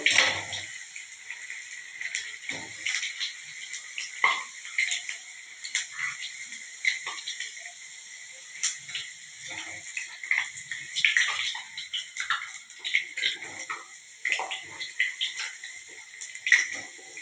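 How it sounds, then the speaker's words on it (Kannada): Maddur vada deep frying in hot oil, with a thin, bright bubbling crackle and scattered pops that come and go, faint and close, without talk. "ಹೀಗೆ ಒಂದೊಂದೇ ಎಣ್ಣೆಗೆ ಹಾಕ್ಕೊಂಡು ಫ್ರೈ ಮಾಡಿದ್ರೆ ಆಯಿತು."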